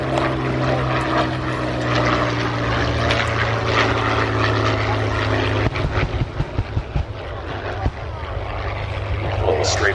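A Spitfire warbird roars past at an airshow, its propeller engine drone loud and sustained before breaking into fluttering, gusty bursts as it moves away, heard from the crowd.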